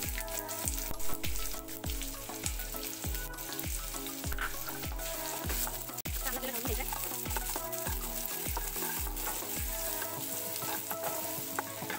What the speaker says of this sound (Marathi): आता हा जो मी एक बारीक चिरलेला कांदा होता तो घालून घेते